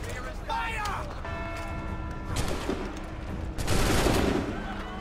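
A musket volley in the video game Assassin's Creed III: a sharp crackling burst of gunfire near the end, following shouted voices and game background sounds.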